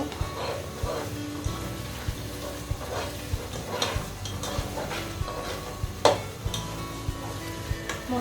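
A spice paste for chicken curry is sautéed in a pan, with a soft continuous sizzle, scattered clinks and scrapes of a spoon against the pot, and a few sharper knocks, all fairly quiet.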